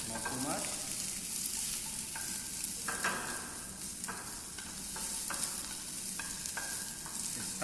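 Onions fry gently in a pan over low heat, a steady soft sizzle with intermittent stirring scrapes throughout, close and continuous with no talking.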